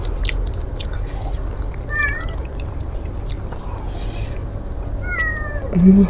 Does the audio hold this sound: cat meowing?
yes